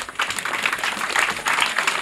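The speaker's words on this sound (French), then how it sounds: "Je vous demande de les applaudir très fort." A crowd at a school health campaign launch at a lycée in Fandène claps loudly for the event's partners, a brief burst of thick, continuous applause with no talk.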